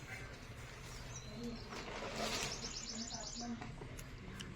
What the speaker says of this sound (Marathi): बघू शकता पक्ष्यांचा आवाज पण येतो,